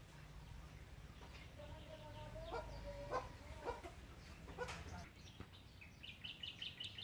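Free-range backyard chickens cluck and call in short, scattered bursts over a quiet outdoor background, with a few sharper calls near the end; the birds sound moderately close but fairly faint.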